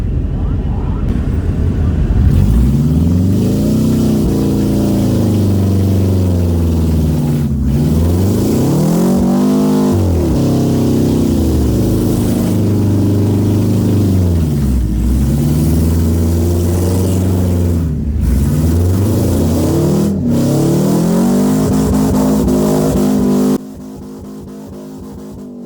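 A Subaru race car in a 50-lap 2021 enduro at Land Of Legends Raceway, its engine roaring loud and close from inside the car, revving up and easing off in repeated surges before cutting to a lower drone near the end.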